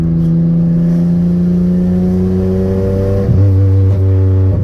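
Turbocharged Hyundai Tiburon engine held at a steady rev, its harmonic drone shifting pitch partway through with a brief stumble, loud and close.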